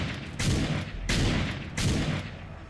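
Three heavy gunshots ring out in Fallout New Vegas, evenly spaced about two-thirds of a second apart, each loud and sharp with a rolling tail.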